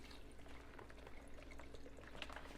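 Liquid is poured into a cooking pan for gnocchi soup, a faint continuous trickle with small splashes and drips at close range, no voices.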